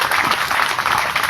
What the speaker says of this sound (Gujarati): એનું જોરદાર તાળીઓથી સ્વાગત કરો